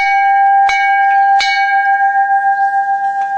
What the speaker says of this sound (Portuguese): eles faziam o toque do sino, que era para os peões voltarem para casa